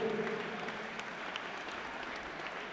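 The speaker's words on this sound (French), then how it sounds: "je voudrais qu'on les applaudisse tous les deux" Audience at a Muay Thai fight night applauding both fighters after the bout, a steady, dense wash of clapping from a crowd, close and sustained throughout with no break.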